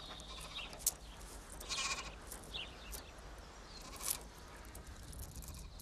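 Sheep bleating in a rural Turkish setting, several short, faint calls at a distance that rise above a quiet background, with no one speaking.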